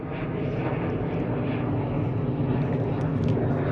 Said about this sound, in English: I do apologise for the plane flying overhead.